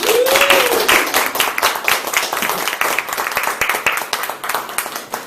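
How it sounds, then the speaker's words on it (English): Clapping from the audience at a Toastmasters club meeting in Metro Manila opens loud and dense, then thins into uneven, scattered claps that gradually taper, with a voice briefly heard at the start. "Ladies and gentlemen, let's give a round of applause."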